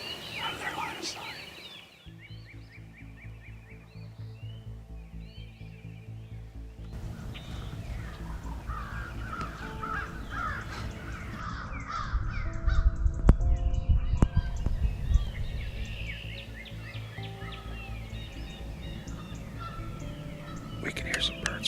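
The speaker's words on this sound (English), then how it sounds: "We can hear some birds flying now." Birds call in a green field at dawn during a turkey hunt, scattered chirps and distant calls over a steady low rumble of outdoor ambience, with a louder burst of activity midway.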